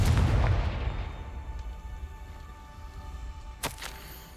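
A Confringo spell explosion in the Hogwarts Legacy video game, a loud booming blast at the start that fades into rumbling ambience, followed by a brief sharp crack near the end.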